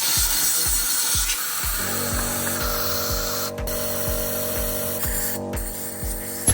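Thinners are sprayed to clean BMW S1000RR throttle bodies, giving a loud, steady hiss interrupted by a few short bursts, over a regular low rhythmic thumping of a running machine.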